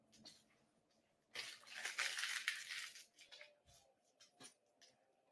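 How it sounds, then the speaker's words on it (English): A small dog tears and crumples paper pulled from the garbage, a rough crinkling burst of about two seconds near the middle, framed by quieter scattered rustles. "Oh, this little dog loves to take paper."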